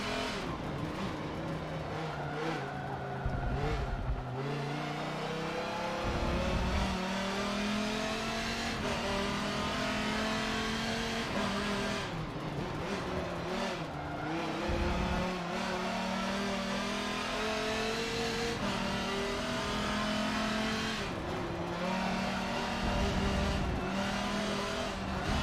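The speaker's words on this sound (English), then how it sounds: "It really does sound like you're inside of a car instead of right on the hood." Car driving in Forza heard from the in-car cockpit view, engine revving up and down through repeated gear shifts with muffled cabin tone and occasional tire squeal, steady and close with no voices for the whole stretch.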